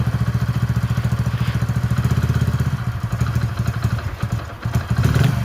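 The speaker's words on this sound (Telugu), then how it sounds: "ఇంజన్ సౌండ్ ఏంటండి" A Hero Passion Pro motorcycle engine runs steadily at a village mechanic's shop, its rapid, even exhaust pulses loud and close, with a brief dip and some clatter toward the end.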